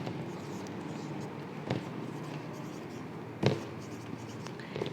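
Marker or chalk writing on a board during a maths lecture, heard as soft scratchy strokes with a few sharper taps over a steady room hiss. There is no clear talking.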